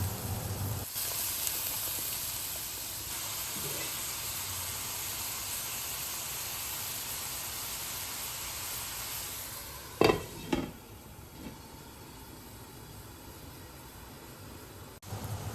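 Beer hitting a pan of braising duck gives a steady close sizzle and hiss, with a few sharp clatters of a utensil near the end; nobody speaks.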